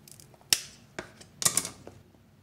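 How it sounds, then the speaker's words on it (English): Scissors snipping through fern growing around orchid roots during repotting, a few sharp crisp cuts spaced unevenly over a couple of seconds, close up with no talking. "I'm gonna just try to cut through the fern, avoiding the roots."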